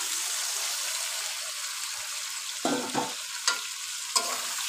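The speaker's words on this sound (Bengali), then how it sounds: "আলু বাঙ্গি সিমের বিচি আর কিছুক্ষণ একটু ভালো করে কষিয়ে নেব" Potato, bean seeds and fried raw melon stir-fried with spices for a snakehead fish curry, a steady close sizzle broken by a few louder scraping stirs of the spatula against the pan, with no voices.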